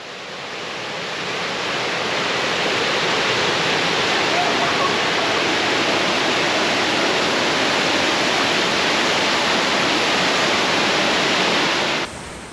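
Clearwater Falls, a 29-foot waterfall in Oregon cascading over limbs and mosses, roars as a loud, steady broadband rush that swells in and holds constant before cutting off near the end.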